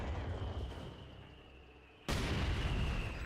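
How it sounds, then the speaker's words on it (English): Mortar shells exploding in Company of Heroes 2: a rumbling low-heavy blast fading out, then a sudden loud boom around the two-second mark that sustains to the end. "Mortar's flying for a counter barrage onto that mortar."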